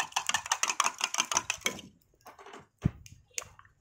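Rapid rhythmic clicking and tapping of a utensil beating eggs in a bowl for nasi goreng topping, steady for a couple of seconds, then a few scattered knocks.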